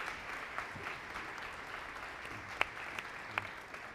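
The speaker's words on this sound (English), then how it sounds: "Give him a big round of applause" Applause from an audience at a high school district event, moderate and fairly distant, a steady patter of many hands with a few sharper individual claps standing out near the end.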